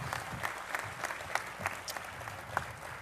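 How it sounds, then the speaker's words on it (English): Scattered applause at a mayor's public event, with light, uneven clapping from a modest crowd at moderate distance, steady for a few seconds with a few sharper claps standing out. "So just a quick round of applause for all of those folks."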